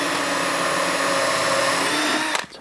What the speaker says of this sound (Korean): 이 부분에서 먼저 나사못 박을 부분을 드릴로